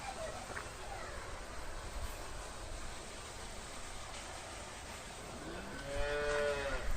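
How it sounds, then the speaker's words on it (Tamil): Native and Sindhi cattle mooing on a farm, a steady rumble of background noise with a clear drawn-out moo rising near the end, fairly close. "நாட்டு மாடு சிந்து மாடு ரெண்டுமே இருக்குதுங்க."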